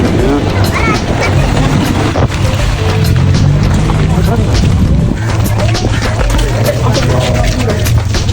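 Passenger boat ride across the water to the Nainativu temple, a loud, steady engine drone and rushing water filling the whole stretch, with voices talking over it.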